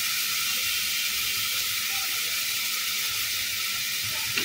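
Steady, hissing sizzle of chicken sprinkled with oregano frying in a pan, constant and close, with no talking.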